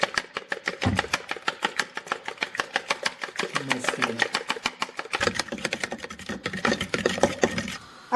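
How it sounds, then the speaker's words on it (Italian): A fork beats whole eggs and a yolk in a bowl for carbonara with rapid, even, clicking strokes, close and continuous, with a short pause midway. "Adesso prendiamo una forchetta e sbattiamo le uova."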